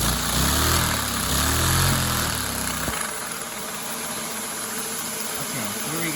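A small single-cylinder engine with a modified, snappier throttle revs up and down in quick bursts for about three seconds, then settles into a steady, close idle with a mechanical rattle.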